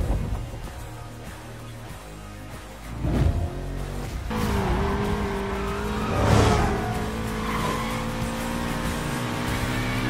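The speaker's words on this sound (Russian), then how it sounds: "Ух, неплохо, ручник работает" Car engine revving with tire squeal from a handbrake skid in the racing game Need for Speed Payback, a continuous loud drone with a swelling slide midway, no talk.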